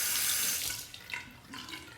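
Tap water runs and splashes while a straight razor is rinsed, a strong steady rush that fades and returns in short bursts.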